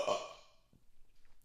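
A single loud burp at close range, bursting out at the start and then fading over about half a second, with quiet room noise afterward.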